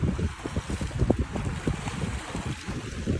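Steady wind buffets a microphone at a seashore at low tide, a continuous rumbling gusty roar with no voices.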